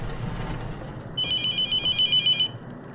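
A telephone rings in The Mortuary Assistant video game, a steady electronic trill that starts about a second in and pulses clearly over low background hum for over a second before stopping.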